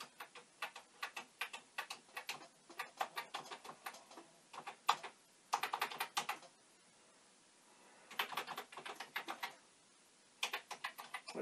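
Keys clatter on a Commodore VIC-20 computer keyboard in bursts of quick, sharp clicks, close up, separated by short pauses, with no talk.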